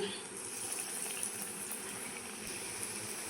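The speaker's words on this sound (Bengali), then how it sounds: "কড়াইয়ে আমি তেল গরম করে নিয়েছি দেখুন আমি ছেড়ে দিচ্ছি" Soft, bubbling hiss of catla fish fingers frying in hot oil in a kadai, quiet and steady for a few seconds.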